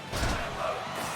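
A wrestling crowd in a small house-show venue rises into a brief swell of cheering and shouting, a loud mass of voices that holds steady for about a second.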